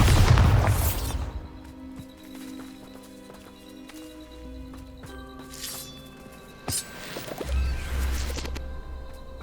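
A burst from the Bombarda blasting spell in Hogwarts Legacy opens with a loud low explosion, followed by quieter game sounds and a second deep boom toward the end.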